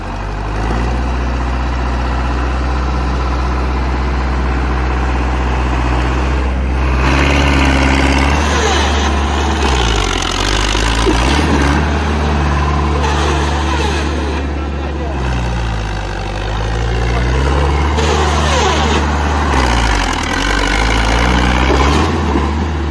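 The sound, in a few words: Swaraj tractor engine running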